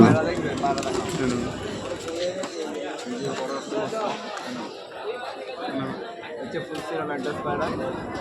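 Pigeons coo softly nearby amid flapping and shuffling at Kolkata's Tala Haat pet market on Galiff Street, with people chattering loudly throughout.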